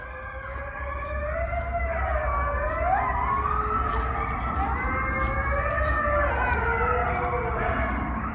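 A wailing emergency siren from an ambulance or fire truck with red wolves howling along, rising and falling voices layered over the siren's tone, sustained and fairly loud throughout.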